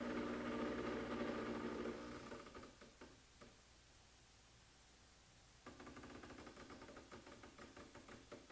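A Decent espresso machine pulls a turbo bloom shot, its pump humming loudly at first, then dropping to a quiet low drone with faint ticks before a steady buzzing whir returns.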